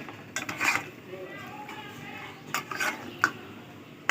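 Chicken kosha being stirred in a pot, with a spoon scraping and clinking against the metal in a few short bursts over a quiet kitchen background.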